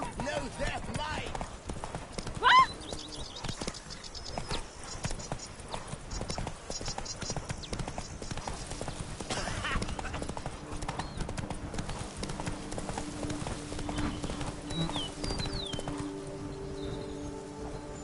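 Roach, a horse in The Witcher 3: Blood and Wine, gallops in steady clip-clop hoofbeats throughout, layered under game music, bird calls and occasional voices.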